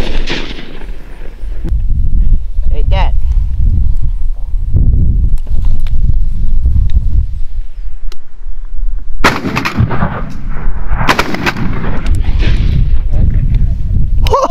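Loud shotgun blasts crack out during a mourning dove hunt, several sharp reports spaced apart, with people talking excitedly between and over them outdoors.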